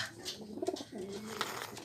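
Soft homing pigeon cooing nearby as the birds return from flight, low burbling calls repeated a few times against light background noise.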